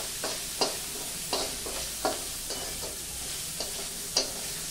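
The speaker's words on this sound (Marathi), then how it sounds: "मस्त कांदा परतला गेलाय" Onion sautéing in a pan for Nashik-style misal pav, with a steady sizzle under repeated stirring scrapes and taps, no talk.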